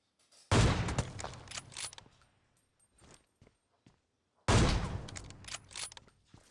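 Gunfire in the battle royale game PUBG Mobile, two heavy loud bursts of shots several seconds apart, with scattered sharper cracks and faint knocks in between, no speech.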